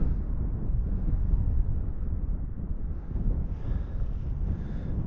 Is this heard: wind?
yes